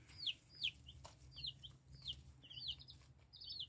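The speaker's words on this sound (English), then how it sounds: "We have 2 week old baby chickens." High, thin peeping from two-week-old chicks, repeated chirps in quick succession over a low steady hum, fairly faint.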